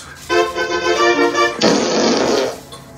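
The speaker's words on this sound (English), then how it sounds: "Alexa, play fart sounds in 11 seconds." A loud fart sound effect plays from an Alexa smart speaker, a long buzzy rasp that shifts into a rougher sputtering tail before stopping, with no talk over it.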